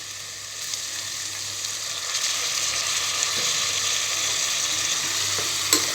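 Chana frying with masala in a pan for chana biryani, a steady close sizzle with occasional soft stirring scrapes, no talk.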